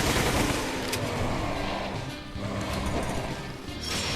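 A punch and an explosion in Resident Evil 0 hit as loud crashing bursts with a rumbling, debris-filled tail, heavy at the start and flaring again near the end.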